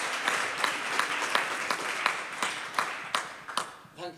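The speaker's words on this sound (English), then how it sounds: "Big round of applause" An audience claps for the speaker Gary at the close of a talk, a steady patter of many hands with sharper individual claps standing out, moderately near and fading at the end.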